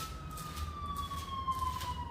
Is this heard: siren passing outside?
yes